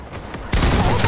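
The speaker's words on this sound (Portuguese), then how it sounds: "Você meteu tiro nas minhas costas." Burst of rapid gunfire in the video game Fortnite, loud and close, a dense volley of shots following a brief quieter lead-in.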